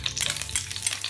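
Garlic cloves frying in about three tablespoons of cooking oil for yangnyeom chicken, giving a steady close sizzle with stirring scrapes and no voices.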